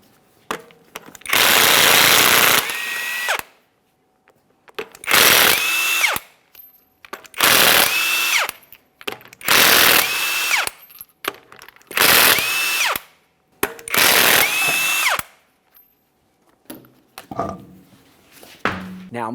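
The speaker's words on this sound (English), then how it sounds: "safely raise and support so you can remove all 6 of your 22mm lug nuts and then the wheel" An impact wrench spins off the 22mm lug nuts on the wheel of a 2017–2024 GMC Acadia, six loud close bursts of whirring rattle, each a couple of seconds long, separated by short pauses.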